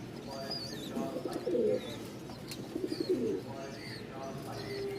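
Fancy pigeons coo in a loft in Mirpur, Dhaka, with soft throaty bursts repeating close by, heard under someone talking.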